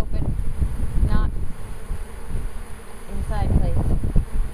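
Honeybees in a bee package give off a loud, dense, continuous buzzing roar close to the microphone, with some wind noise and a few louder individual bees passing by.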